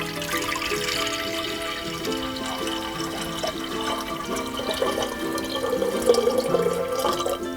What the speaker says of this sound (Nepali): अब यो कुकरमा हामीलाई पानी राख्नुपर्ने हुन्छ